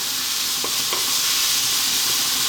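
Ground coriander, turmeric, cumin and chili powder sizzle and fry steadily in a hot pan for a spinach saag masala, with a continuous bright hiss and a couple of light stirring scrapes, no voices.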